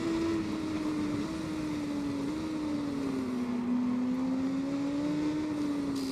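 Superbike engine in the video game TT Isle of Man 2 during an Irish Championship race, a steady high-pitched drone holding a sustained tone that slowly dips and rises, with no talk.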